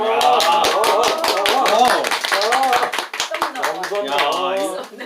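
Audience clapping at a small concert held in a country house, with sharp, quick handclaps running throughout, mixed with people talking over them.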